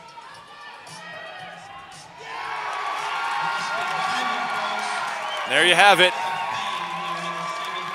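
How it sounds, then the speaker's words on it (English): Crowd in the City Auditorium in Colorado Springs cheering and screaming at the 2013 ABS 14 National bouldering championship semifinals as a climber nears the top, a steady roar under a commentator's voice with a louder burst of shouts near the end. "You can hear the screams in the background."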